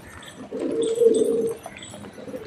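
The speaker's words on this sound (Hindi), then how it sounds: "ये देखो एक छोटी वाली कबूतरी भी अपना यहीं घूम रही है" A pigeon gives one soft, drawn-out coo near the middle, close and clear above a quiet background, the low throaty note rising and fading within about a second.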